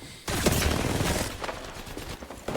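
Video game gunfire as an entire enemy team shoots at one player, a sudden, sustained volley of rapid overlapping shots that thins toward the end.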